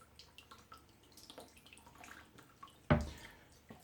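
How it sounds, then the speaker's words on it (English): Water leaking from the glued handles of a container being filled for a glue strength test, faint irregular drips and trickles followed by a single louder splash near the end. "Got Some leaks coming out where the handles are."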